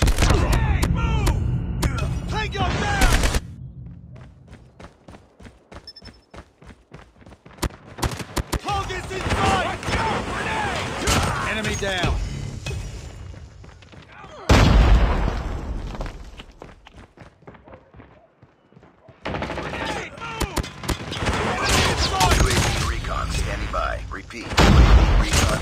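Sentry gun firing in the mobile shooter Call of Duty Mobile, dense bursts of rapid gunfire in long loud stretches broken by short quiet gaps, mixed with booms and thuds of battle.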